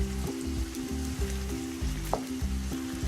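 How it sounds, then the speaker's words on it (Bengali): Food fries in hot oil with a steady, close, even sizzle that carries on unbroken; no one speaks. "ওই সাইডটা আমার একটু ভাজা লাগবে আমার কাছে মনে হচ্ছে"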